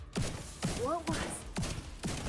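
Gunshots in a video game ring out in an evenly spaced series of about five heavy thumping blasts, each a short burst, with a voice talking between them.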